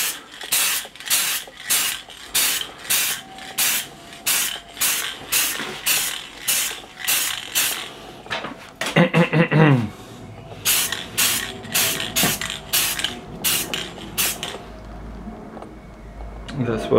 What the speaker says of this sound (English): Valspar metallic gold to spray it gold.